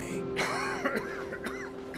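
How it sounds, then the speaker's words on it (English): A man in the Hitman 3 video game gives a raspy throat-clearing cough in a few rough bursts, close and fairly quiet, over a steady low hum. "Can't you do anything to strangle this cough, Doc?"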